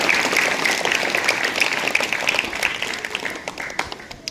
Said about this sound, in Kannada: ನೀವೆಲ್ಲರೂ ವಿಶೇಷ ಚಪ್ಪಾಳೆ ಮುಖಾಂತರ ಅವನ್ನು ಅಭಿನಂದಿಸಬೇಕು